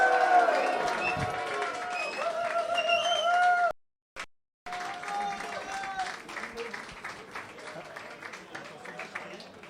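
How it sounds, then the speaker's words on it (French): An audience at the Mister Rubber France 2024 election applauds and cheers, dense clapping with voices, broken by a brief dropout, then continuing with a crowd still clapping and calling out. "On peut les applaudir très très fort, s'il vous plaît"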